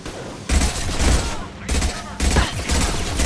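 Heavy gunfire from the video game Mass Effect 2 comes in three sustained loud bursts of rapid shots separated by short gaps, with background voices faintly present.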